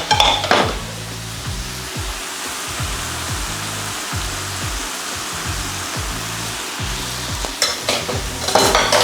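Mushrooms go into a frying pan for a vegetarian okra sauce and are stirred, with a loud clatter at first and then repeated rhythmic scraping strokes over a steady sizzle.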